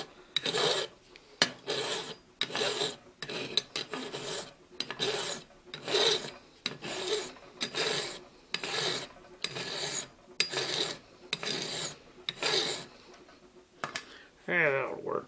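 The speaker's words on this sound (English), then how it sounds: "file that off just a bit so it's sort of straight" A hand file rasps across a Ford Falcon XF door handle part, about a dozen rhythmic scraping strokes up close with short gaps between them.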